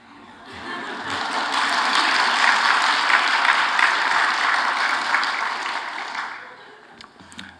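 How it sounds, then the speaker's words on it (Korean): Congregation at a Korean Sunday evening church service applauds, the clapping swelling in over a second, holding as a steady dense patter of many hands, then tapering off. "여러분 박수도 눈치 보고 치는 것 같아요."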